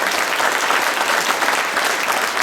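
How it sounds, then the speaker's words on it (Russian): Dense, steady applause from a youth forum audience honoring the organizers, a continuous wash of many hands clapping with no talk over it. "давайте аплодисменты организаторам этого форума"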